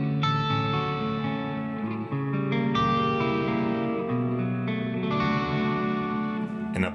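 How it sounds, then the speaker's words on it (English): Sustained chords from a MOD Dwarf pedalboard through a DoGood Sound convolution hall reverb, washing into a dense, lingering tail that blurs each change into the next, steady and fairly loud throughout. "Hall reverbs."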